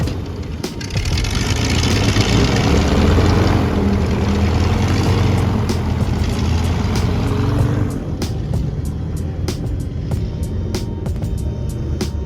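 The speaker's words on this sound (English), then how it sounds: "My second time being on an airboat." Airboat engine and propeller roar steadily during an Everglades ride, a loud dense drone that eases slightly in level after about eight seconds and continues without talk.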